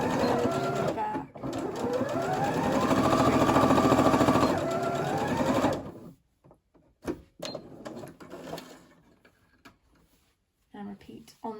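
A sewing machine stitches headband fabric in a steady whirring run of about six seconds, then stops, followed by scattered clicks and handling noises.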